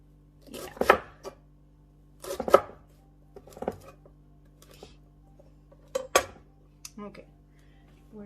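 A knife chopping celery on a cutting board for chicken noodle soup, sharp clustered chops in irregular bursts separated by quiet pauses, close and clear.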